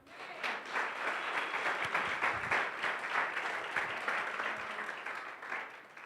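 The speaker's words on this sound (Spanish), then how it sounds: "Aplauda al Señor" A church crowd applauds together during a preaching service, a thick, even roar of clapping that holds steady across the whole stretch at a moderate distance.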